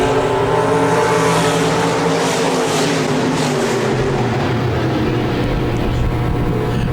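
A pack of six stock cars races a heat on the Park Jefferson Speedway dirt track, engines roaring loud and close in a dense, sustained drone with rising and falling pitch.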